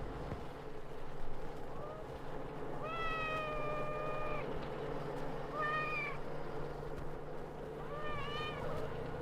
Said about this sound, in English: The cat sits and waits for someone to get up and give him breakfast.